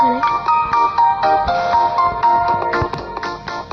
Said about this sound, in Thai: โทรศัพท์มีคนโทร